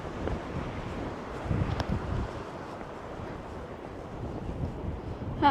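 Outdoor wind in Colorado buffets the microphone in low, rumbling gusts. It swells around the middle and again at the end, with no voices heard over it.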